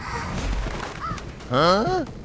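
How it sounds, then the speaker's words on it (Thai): Crows caw inside the Identity V video game, a couple of harsh rising calls rising over busy game noise and background chatter near the end. "ปล่อยอีกาไว้ทุกคน"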